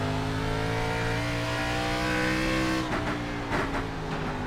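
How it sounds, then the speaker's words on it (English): Race car engines roar continuously in a NASCAR-style racing game at North Wilkesboro, a steady loud multi-car drone with shifting revs and a brief burst of louder passing noise near the end. "Gotta love the sound of the engines roaring here in North Wilkesboro."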